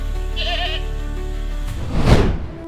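Goats bleat loudly and close by, several wavering calls overlapping over a low droning background, carried on the shoulders of men paraded by police.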